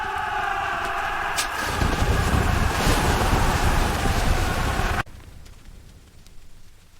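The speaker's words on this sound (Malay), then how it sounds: "Air terjun." Loud, close rush of waterfall water from a fast river current, a dense continuous roar that stops abruptly about two-thirds through and leaves a faint, quieter wash.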